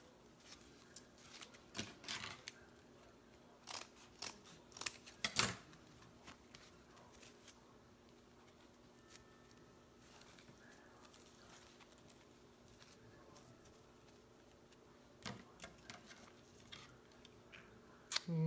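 Scissors cut through stiff Christmas wreath material in scattered close snips and crunches, some in quick bursts, separated by quiet stretches with faint background noise.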